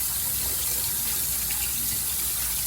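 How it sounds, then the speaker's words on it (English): Hot tap water runs steadily over garlic cloves in a kitchen sink, a continuous close hiss and splash with no breaks. "you can take the garlic and run it under hot water"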